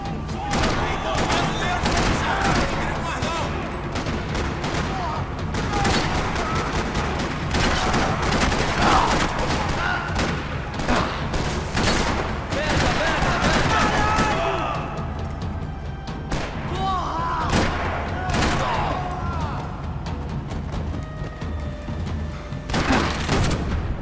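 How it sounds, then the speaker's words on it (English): Sustained gunfire in a parking lot in the video game Max Payne 3, with dense bursts of shots, crashes and booms filling the whole stretch loudly and without a break, and game dialogue mixed in. "Another parking lot rattling with gunfire."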